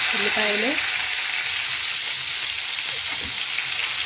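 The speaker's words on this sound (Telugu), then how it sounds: "ఉల్లిపాయ, టమాటా, పచ్చిమిర్చి వేసుకొని మనం వేపుకోవాలి ఫ్రెండ్స్." Onion, tomato and green chilli frying in a pan for a gongura chicken curry make a strong, continuous hissing sizzle, close and steady throughout, with a brief faint stir or voice-like sound near the start.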